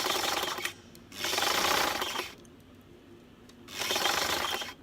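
A sewing machine runs in three short bursts of steady, fast stitching while sewing in a zipper, separated by quiet pauses.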